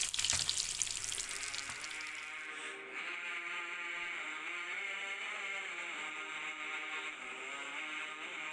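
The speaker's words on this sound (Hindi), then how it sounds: "एक तरफ हमारे कटलस फ्राई होंगे और दूसरी तरफ कढ़ाई में हमारे बोनट्स फ्राई होंगे" Potato cutlets and bonuts frying in a kadhai give a bright, close sizzle that starts loud, then settles into a steady, softer hiss for the rest of the clip.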